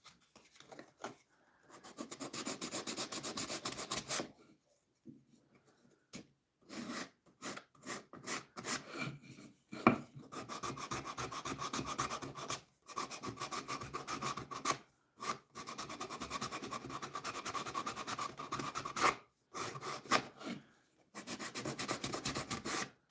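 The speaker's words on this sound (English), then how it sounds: "let's see if I can just sand that back a little bit" Hand sanding of squeezed-out super glue on a construction lumber gift box: steady raspy rubbing strokes in bursts with short pauses, close and fairly loud, no talking.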